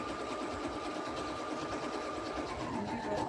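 A sewing machine runs continuously, stitching fabric while binding a quilt, with a steady fast mechanical whir close by and no talk.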